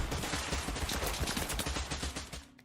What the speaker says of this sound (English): we would match it to what a gunshot sounds like